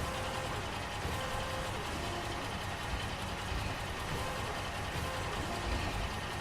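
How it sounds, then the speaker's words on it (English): In a Construction Simulator game, a heavy truck engine labors under load, a loud, steady diesel drone with a faint reversing-beep pattern running throughout. "when you're moving it and it's heavy, you can hear the engine work up a little bit more"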